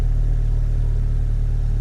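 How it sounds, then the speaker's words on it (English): A 10th gen Honda Civic fitted with a PRL cobra race intake and a ktuner tune idles with a steady low engine hum, revving only slightly while the car sits stationary, close and continuous. "Now I'm gonna try to rev it here"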